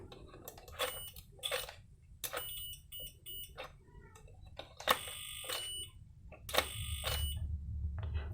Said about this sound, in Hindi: ये लगातार बीप दे रहा है इसी में